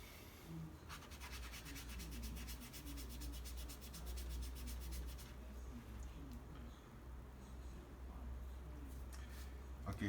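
Magic eraser scrubbing an anime figure, quiet close rubbing strokes in quick rhythmic bursts, with a low background hum throughout.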